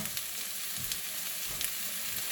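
Hot spicy sausages frying in a pan with butter, sliced apple and onion, giving a steady close sizzle with small pops and crackles throughout, no talking.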